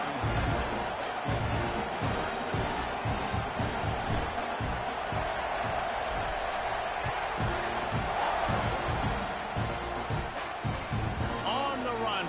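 Stadium crowd roaring steadily at kickoff in the College Football 26 video game, a dense continuous wall of cheering with scattered claps, heard under a play-by-play commentator's voice.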